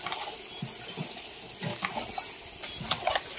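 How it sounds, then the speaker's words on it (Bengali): Crackling sizzle of potatoes frying in oil until browned, with occasional stirring clinks and scrapes, steady and close, no voices. "ভালোভাবে লাল লাল করে আলুগুলো ভেজে নিয়েছি"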